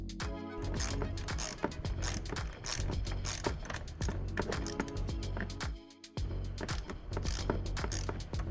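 A ratchet tightens 10mm bolts on top of a Can-Am Maverick X3 turbo: continuous close, fast clicking with a brief pause near the end, loud and with no talking.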